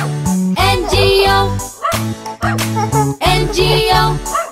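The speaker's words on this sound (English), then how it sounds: "There was a farmer had a dog, and Bingo was his name" Dog barks, pitched to follow the tune of the children's nursery rhyme Bingo, ring out over a bouncy musical backing in short, rhythmic bursts.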